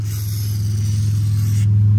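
A steady hissing spray from a WD-40 aerosol can, continuous for a couple of seconds, over a low mechanical hum, while lubricating a ring during fuel system work on an SRT-4 car.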